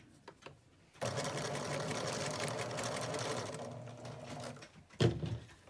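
A sewing machine runs a quarter-inch seam on a fabric face mask, starting with a few soft taps, then a steady close whirring stitch for about four seconds, ending with brief clicks.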